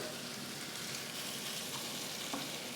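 Shrimps and an omelette fry together in a pan, giving a steady, close sizzle and crackle that holds evenly throughout, with no talking.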